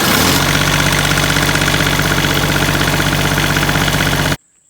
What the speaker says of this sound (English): this is the way we had to start this lawnmower for a long time